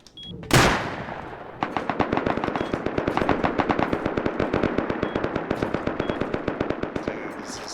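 Rapid machine-gun fire from a turret in a video game, a sharp burst followed by a long steady rattle of evenly spaced shots, loud and close, with no talk over it.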